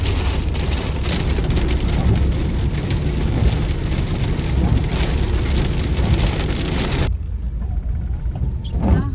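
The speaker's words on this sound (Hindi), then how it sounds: "बड़ी तेज़ बारिश हो रही है, देखें" Heavy rain pounds loudly and steadily on a vehicle with wipers running, a dense close roar that cuts off abruptly near the end, leaving faint quiet.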